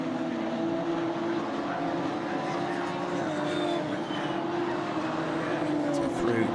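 Radical SR1 sprint race cars streaming over the start-finish line at Brands Hatch, a continuous blended engine drone from a pack of cars heard under a commentator's voice.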